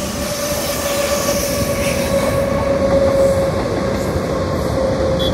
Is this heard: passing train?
yes